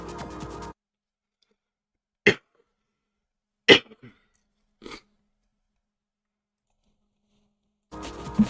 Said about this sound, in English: Sorry about that, got a bit of a cough.